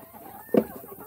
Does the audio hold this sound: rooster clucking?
yes